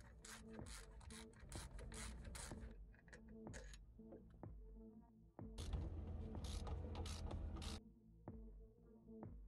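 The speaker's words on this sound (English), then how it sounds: "Next, let's remove the rocker shaft." A rocker shaft comes off the engine of a 1980 Bayliner Mutiny boat with metallic clanks, creaks and ratcheting scrapes in irregular bursts, quiet and close, with no voices.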